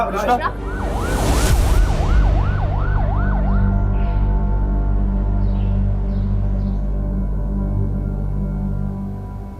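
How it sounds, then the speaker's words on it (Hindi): A loud wailing ambulance siren sweeps up and down in quick regular cycles for a few seconds over a steady engine rumble, then fades, leaving the low drone of traffic. "एम्बुलेंस को बुलाएं।"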